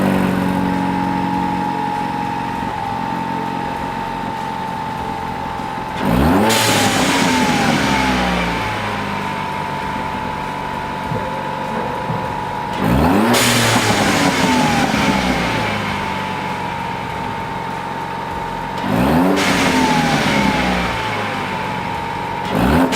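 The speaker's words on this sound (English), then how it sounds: "let's go ahead and give it a test, I guess you should hit test rev to see if there's any sound difference" A car engine fitted with a Steeda blow-off valve adapter idles steadily and is revved three times, each rev a sharp rising roar that falls back to idle, close and loud with no talking.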